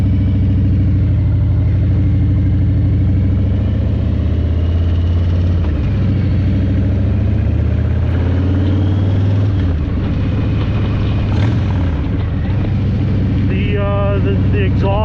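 A 2020 Harley-Davidson Low Rider S with aftermarket exhaust, intake and tune idles with a deep, steady rumble throughout, loud and close, while someone talks over it.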